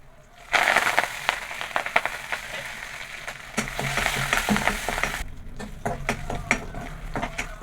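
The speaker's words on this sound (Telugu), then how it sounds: "పప్పుచారు తాలింపు పెట్టేశాను." Tempering for pappu charu, Telugu lentil soup, sizzles and crackles loudly in hot oil, a steady frying hiss with popping bursts close by, no speech.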